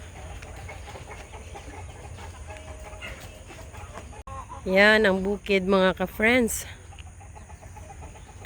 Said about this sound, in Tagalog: ayan ang mga manok nila